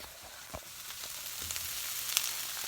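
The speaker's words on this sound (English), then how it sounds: "see that it's sauteing" Vegetables for ratatouille sauté in a pan with a soft, continuous sizzle, quiet and close, broken by a few light clicks and taps from stirring.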